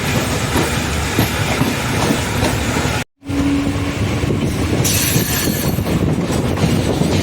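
A train rumbles steadily along the tracks between Karur Junction and Trichy Fort, loud and close, with rhythmic wheel clatter and a brief dropout partway through.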